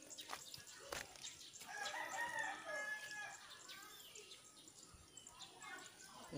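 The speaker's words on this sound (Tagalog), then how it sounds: "Saka yung manok kong maliit, yung serama." A small serama rooster crows once on a rubber plant farm, a faint, fairly distant call lasting about a second, with some low background rustle.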